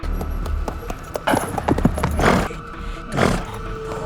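Horse hooves clopping in an uneven patter, followed by a couple of loud neighs, close by with no talking.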